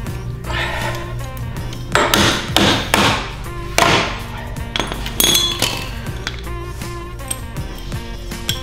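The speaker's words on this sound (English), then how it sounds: "So we'll take the cotter pin off." Metal tapping and clinking on a boat trailer hitch while a cotter pin is worked free: a series of sharp hammer-like knocks and light chinks, close up and irregular, with no talking.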